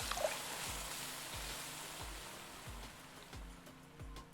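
A steady broadband wash of water poured into a cooking pot in the game Venba, a soft continuous rushing that fades slightly over the few seconds, with low rhythmic game music thumping underneath.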